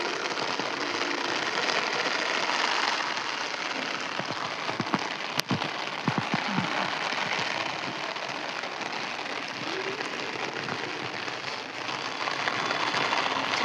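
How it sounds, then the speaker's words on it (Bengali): Steady rain falling on a rainy day, a dense even hiss of drops on surfaces that stays constant throughout with a few sharper taps. "ছাতা মাথায় নিয়ে চললাম দোকান, বৃষ্টি হচ্ছে।"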